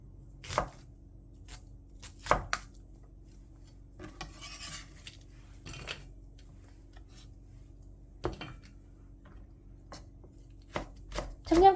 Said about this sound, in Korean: 양파 80g 정도 준비를 했어요. 약간 도톰하게 썰어서 준비해 주고요.